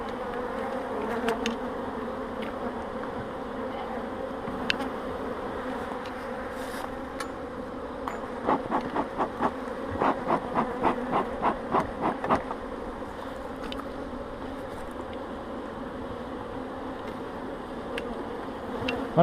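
Honeybees drone in a steady buzz at an open hive during a spring inspection, with a brief burst of sharper, pulsing wingbeats partway through.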